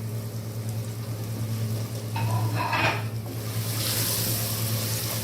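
Potatoes are tipped into a pan of frying masala with a brief clatter and a burst of sizzling, then steady frying hiss continues under a low background hum.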